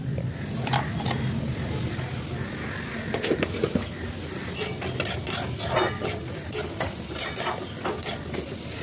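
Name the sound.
stirring carrots, capsicum and beans frying in a wok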